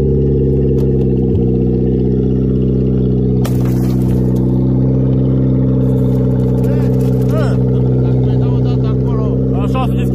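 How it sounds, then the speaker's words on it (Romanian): A car engine revs steadily and loudly throughout, a low droning hum with occasional surges, while people talk over it inside the vehicle. "hai să ambalăm"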